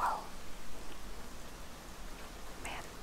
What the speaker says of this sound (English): it's raining really well out today.